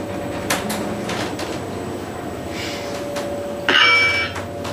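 Schindler 3300 elevator doors at the Shops at Rivercenter in San Antonio slide with soft mechanical clunks and rumbles over a steady hum, ending in a brief chime-like ring near the end; no talking.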